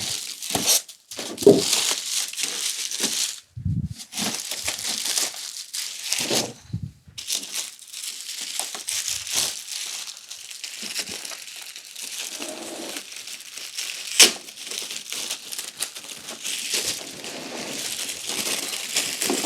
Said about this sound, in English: Get the plastic off.